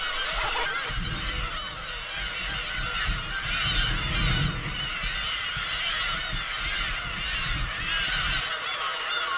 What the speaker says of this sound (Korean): 번식을 위해 괭이 갈매기들이 섬 전체를 하얗게 뒤덮는 5월과 6월은